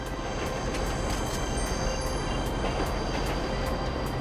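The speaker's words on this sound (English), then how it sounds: "Train! It's our only shot!" A train in Grand Theft Auto V rumbles past steadily with a heavy rolling roar, and regular clicks of the wheels on the rails repeat over the noise, with no speech.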